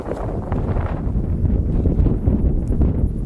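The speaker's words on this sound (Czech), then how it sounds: "Na vrcholu Veženu brutálně fouká" Strong, gusty wind roars across the summit of Vezhen in the Stara Planina mountains, a dense low buffeting rush battering the microphone continuously and loudly, with no other sounds.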